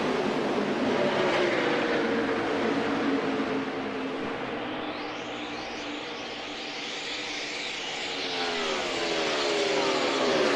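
NASCAR stock cars at high RPM during the AAA 400 at Dover, a dense continuous engine roar with pitch sweeps as cars pass, loud and sustained with no talk.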